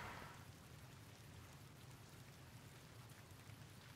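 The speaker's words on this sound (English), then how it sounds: "Late night thunderstorm, love it." Steady rain from a late-night thunderstorm in a video game pours down in a continuous dense hiss, with a low rumble underneath; no distinct thunderclap stands out.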